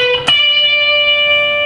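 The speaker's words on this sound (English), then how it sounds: "So the hammer-on and pull-off will sound like this." Electric guitar played: a single sustained note with a quick hammer-on and pull-off, a sharp attack early on, then a clean ringing tone that holds steadily to the end with no voice.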